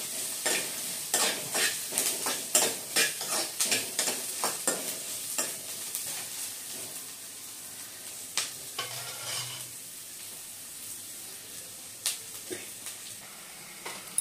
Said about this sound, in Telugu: ఇలా ఆనియన్స్ పచ్చిమిర్చి అంతా వేసుకోవాలి.